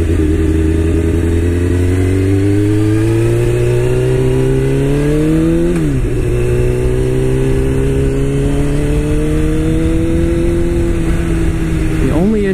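A 1998 Honda CBR 600 engine runs loud and close while riding, pitch climbing steadily through the gears with two distinct shift drops, while a rider talks over it.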